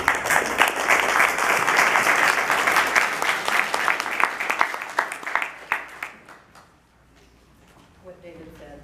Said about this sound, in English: you guys deserve a big round of applause for that.